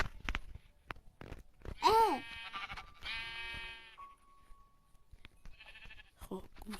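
Sheep bleating in the Minecraft video game, a couple of short wavering bleats near the middle among clicks and footstep-like game sounds, with people talking around them.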